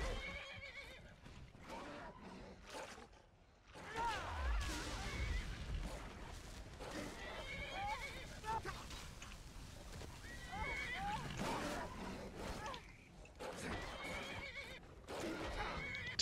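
A horse neighs and whinnies in the Skyrim video game, mixed with game sounds and hoof clip-clops, while someone talks excitedly over it for much of the stretch.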